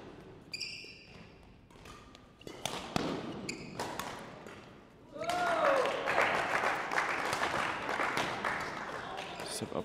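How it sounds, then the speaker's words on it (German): A badminton league match crowd breaks into applause: scattered claps and shuttle or footwork sounds at first, then a swell of sustained clapping with shoe squeaks, while a commentator talks over it. "Deshalb Applaus vom Publikum."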